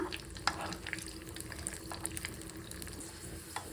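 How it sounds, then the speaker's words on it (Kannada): Raisins and cashews fry in ghee for sweet pongal, a soft continuous crackling sizzle with faint scattered pops and an occasional stir, close and quiet. "ಇವಾಗ ದ್ರಾಕ್ಷಿ ಹಾಕ್ಕೊಂಡು ದ್ರಾಕ್ಷಿನ 1-2 ನಿಮಿಷ ಫ್ರೈ ಮಾಡ್ಕೊಳ್ಳೋಣ"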